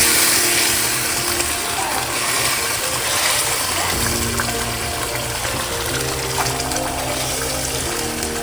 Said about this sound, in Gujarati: તો હવે આપણે થોડું પાણી નાખીશું.